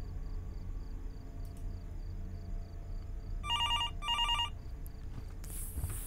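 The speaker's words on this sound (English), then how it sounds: "Phone is ringing?" A telephone rings in the horror video game Fears to Fathom: Norwood Hitchhike, two short electronic double bursts of ringing over a low steady ambient hum, with no talking.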